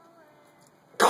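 A single sharp cough bursts out at the very end after near silence, loud and close.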